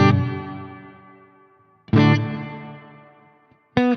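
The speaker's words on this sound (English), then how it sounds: "you can hear it's almost like an echo now" Guitar chords ring through a Chase Bliss Meris CXM 1978 reverb pedal with the pre-delay turned up. Three strummed hits bloom, give a delayed echo-like repeat and fade into a long wash, close and loud with no talking.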